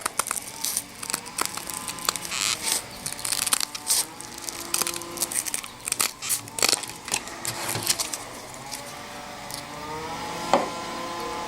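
Scissors snip through Velcro hook-and-loop fabric pieces while making a cloth diaper cover, a series of short crisp cuts and crunches with small rustling handling between them, close and fairly quiet.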